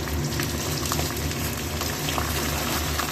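Spice paste sizzles and bubbles in a pan for chicken curry, a loud, continuous close crackling fry with no break.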